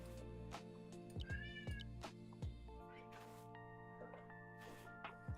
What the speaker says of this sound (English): don't mind my cat meowing in the background while she climbs on stuff